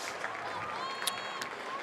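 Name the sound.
home crowd applause at a college football game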